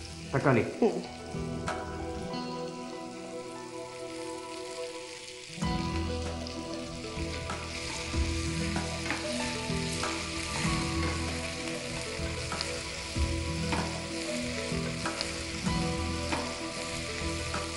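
Chopped tomatoes sauté in an oil-filled pan for a cabbage kothu curry, with a steady, close sizzle and frying crackle. A sharp burst as they hit the pan midway brings louder, denser sizzling that carries on with light stirring scrapes.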